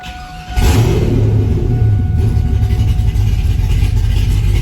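A 1957 Oldsmobile 88 runs with its muffler fallen off, giving a loud, raw low-pitched exhaust rumble that bursts in after a quieter moment and holds steady and close for several seconds.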